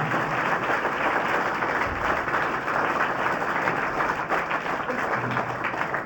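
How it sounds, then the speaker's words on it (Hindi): Steady, dense applause from a crowd at a school event, sustained and fairly loud throughout with no pauses. "इनके लिए ये भी एक बार जोरदार तालियां।"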